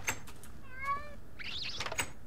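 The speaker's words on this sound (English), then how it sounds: "It's a rat! A rat that sounds like a cat." A rat creature in the video game Technic lets out cat-like meows, a couple of rising and falling calls heard fairly close amid quiet game ambience.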